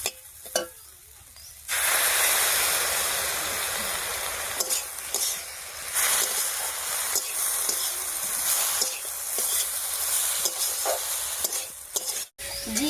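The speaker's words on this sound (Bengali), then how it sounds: "এদিকে পেঁপেটা বেশ কিছুক্ষণ রান্না হয়ে একটু ভাজা ভাজা মতো হয়ে গেছে।" Papaya frying in a pan with steady loud sizzling after a short quiet start, broken by scraping stirs of a spatula throughout, no talking.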